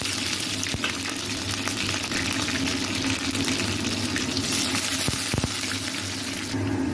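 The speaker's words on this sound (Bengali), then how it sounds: "এখন আমি তেলে পেঁয়াজ দিয়ে দিব, কুচনো পেঁয়াজটা দিয়ে দিলাম।" Chopped onions fry in hot oil with a dense, steady sizzle and hiss, close and continuous, and a few sharper spatters and stirring knocks.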